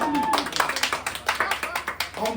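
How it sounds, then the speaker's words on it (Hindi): An audience at a Maithili comedy theatre show claps in a fast, uneven patter of many hands, close and lively, with some voices mixed in. "एक बार जोरदार ताली"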